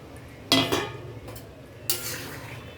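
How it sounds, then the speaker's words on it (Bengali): Fried shing fish dropped into a simmering papaya and potato curry in a pan, with two sharp splashing clatters of utensils against metal over a quiet background bubble. "এবার আমি এর মধ্যে ভেজে রাখা মাছটা দিয়ে দেব।"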